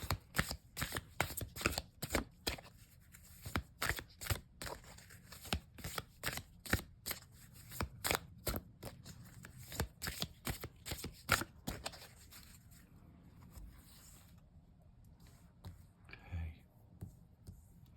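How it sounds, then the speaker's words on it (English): Oracle cards from a Primordial Goddess deck are shuffled by hand in quick, crisp riffling bursts that fill most of the stretch, then ease into softer handling near the end. "I'm going to give them a bit of a shuffle and we'll pull a card"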